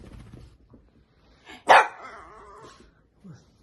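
A single sharp dog bark rings out close by, followed by a brief low yip amid quiet background rustling.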